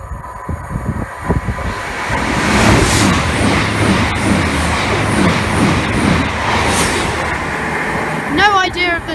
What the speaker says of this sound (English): we've got a pair of 221 Voyagers going from Chester to London Euston